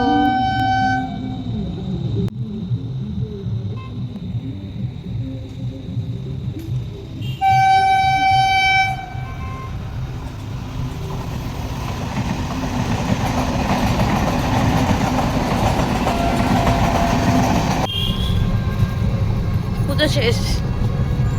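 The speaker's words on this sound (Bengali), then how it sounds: "ট্রেন আসছে" A train passes close by, with a horn sounding in short toots early on and then a rising, continuous rumble of wheels and cars that fills the rest of the time. A voice speaks at the start.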